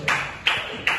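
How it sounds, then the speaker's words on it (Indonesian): A classroom audience claps in three sharp, evenly spaced bursts, a quick patterned rhythm of hand claps close by in a university teaching-practice lesson on shrouding a body. "Ya, tepuk tangan buat dia ya."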